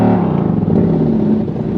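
Lamborghini engine during a launch control attempt, a close loud rev that stumbles and sputters, the tone wavering and falling away instead of building.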